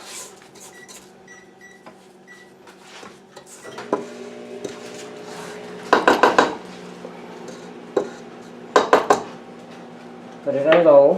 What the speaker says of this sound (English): we're going to scrape the bowl one more time